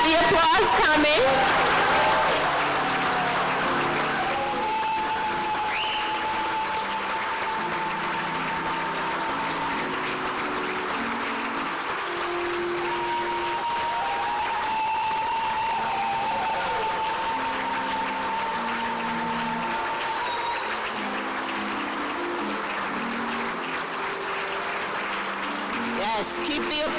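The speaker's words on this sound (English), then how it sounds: "Yes, keep the applause coming." Sustained audience applause fills a theater during a medical school white coat ceremony, steady and dense throughout, with an announcer's voice speaking over it at times.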